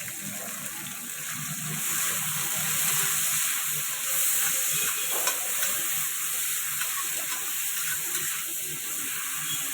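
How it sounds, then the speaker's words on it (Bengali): Bitter gourd fries in hot mustard oil, making a steady, dense sizzle and hiss close by that holds through the whole stretch, with faint stirring underneath and no talking. "করলাটা ভেজে নেব, লাল করে ভেজে নেব করলাটা।"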